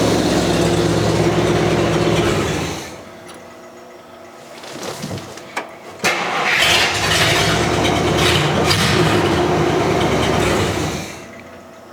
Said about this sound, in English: the gas pedal isn't allowing the carburetor to return back, so it's idling a bit fast